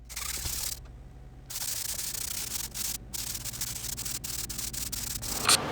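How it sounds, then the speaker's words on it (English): Sandpaper rubs back and forth against the legs of a vintage rock maple bench, a soft, steady scratchy friction broken by brief pauses and one short louder scrape near the end. "Now I'll work on the bench legs by sanding them with 220 and then 4/0 steel wool and wax and orange oil."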